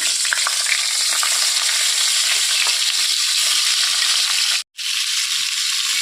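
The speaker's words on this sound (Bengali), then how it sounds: "এবার ফুলকপিটা আমি দিয়ে দিচ্ছি ভাজার জন্য" Cauliflower frying in oil in a pan, a loud, dense, continuous sizzle close by, broken only by a brief cut near the end before resuming.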